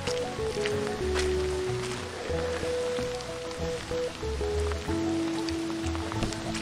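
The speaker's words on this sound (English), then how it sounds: "Well, we're at Fern Lake and it continues to rain." Steady rain falling at Fern Lake in Rocky Mountain National Park, a constant dense patter over the scene, mixed with a low background hum and scattered tones. No one speaks.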